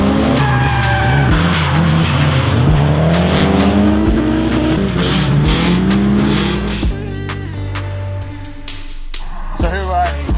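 A sports car runs hard on Pat's Acres go-kart track in Battleground, Washington, its engine revving and shifting loudly with tire squeal, close and continuous for the whole stretch over a busy music-like background.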